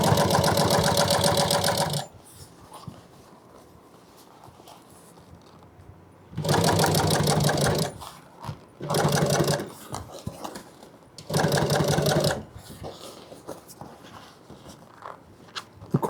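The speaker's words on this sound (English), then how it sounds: "let's just go ahead and do our top stitch all the way around." A sewing machine runs top stitching around the edge of a boat cushion in four loud bursts, each a few seconds long, with quiet pauses between them as the fabric is repositioned.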